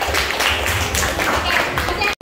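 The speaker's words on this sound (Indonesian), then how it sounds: "tepuk tangan ke kelompok sini" A classroom of students claps for a group during a regional-language lesson, a short uneven patter of hands close by, with voices mixed in, ending in a brief cut.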